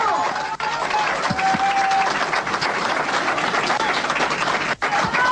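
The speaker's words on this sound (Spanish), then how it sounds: "Un aplauso." A crowd bursts into loud, dense, continuous applause at a same-sex wedding ceremony just after the marriage is declared by law, with a few cheers mixed into the clapping.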